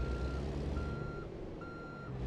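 A truck backing up in American Truck Simulator sounds a steady, evenly spaced beeping reverse alarm. The beeps sit over a low idling engine rumble, fairly quiet, with no voices.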